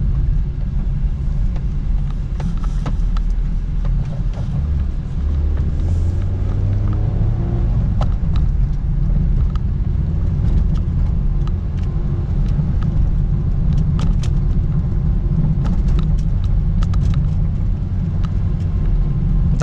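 Honda Brio 1.3 driving up a steep road, heard from inside the cabin as a steady low engine and road rumble with a brief rise in engine pitch, continuous and fairly loud.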